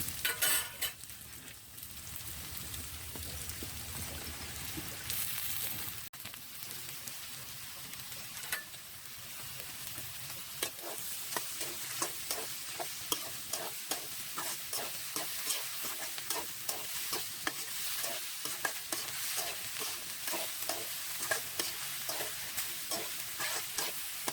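Chopped okra sizzles steadily while being frying in a pan on a clay stove, with a spoon scraping and stirring in a regular rhythm of soft clanks and scrapes over the constant hiss of hot oil.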